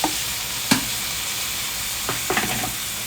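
Tomato gravy for crab roast sizzles steadily in a hot pan while a spoon stirs and scrapes it, with a few sharp clinks and bursts of frying, near and clear, no voices.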